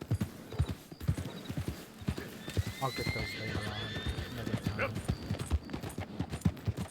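Horse hooves clip-clop steadily in Red Dead Redemption 2, with a horse neighing midway, while someone talks over the rhythmic footfalls.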